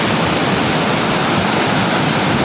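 A waterfall roars in a steady, dense rush of water that stays loud and unbroken throughout.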